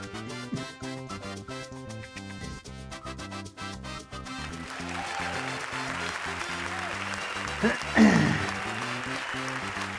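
Applause from an audience during a livestreamed show, rising in the second half as a dense wash of clapping over tonal music with a low repeating bass pattern, peaking briefly near the end.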